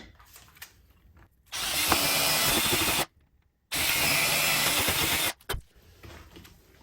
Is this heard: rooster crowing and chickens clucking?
no